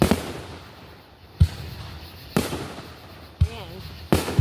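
Fireworks explode in a series of about five sharp booms spaced roughly a second apart, with faint crackle between them and a brief voice partway through.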